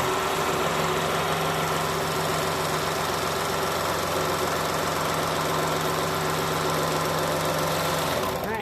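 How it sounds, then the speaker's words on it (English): A serger sewing machine runs steadily, stitching along the rounded edge of a fabric face mask, a continuous mechanical whir with a fast rhythmic hum that stops abruptly near the end. "I'm going to serge this rounded edge. Okay, take it to the serger."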